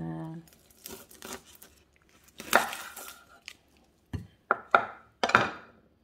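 Half a red onion is chopped for Filipino kilawin, a few sharp knife strokes on a board coming in irregular bursts, close and fairly quiet, with some soft handling noise between cuts.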